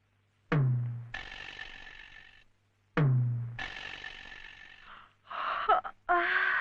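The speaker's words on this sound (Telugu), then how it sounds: "ఏమిటి ఏమిటి అప్పుడే ఆవలింతలు?" A drawn-out yawn with a breathy, moaning rise, heard twice in close succession in a quiet room, followed by a short stretch of talk.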